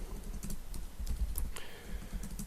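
Fast, irregular clatter of keys on a computer keyboard fills the whole stretch, close and steady, with nobody speaking.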